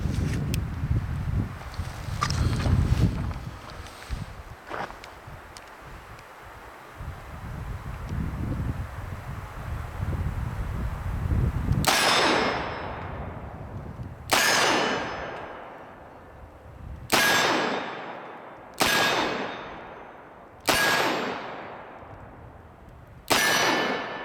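A Smith & Wesson 686 Plus seven-shot .357 Magnum revolver fires Sig Sauer 125-grain rounds: six loud, sharp shots with ringing decays, spaced a few seconds apart, after a stretch of wind and rustling.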